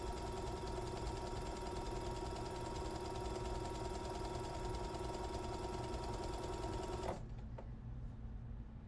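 A sewing machine backstitches along fabric, giving a steady, close mechanical whir and rattle for about seven seconds. It then stops abruptly, leaving a brief quieter tail.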